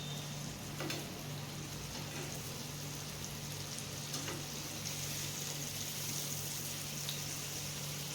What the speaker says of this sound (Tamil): ஊறின மீனை எண்ணெயில் போட்டுக்கலாங்க